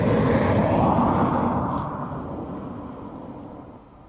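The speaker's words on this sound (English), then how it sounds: "Air Canada taken off on the far side. Just hear it spooling up" Air Canada airliner at Dublin Airport spooling up its engines for takeoff on the far side, a broad roaring rumble that is loudest at first and then gradually fades as it recedes.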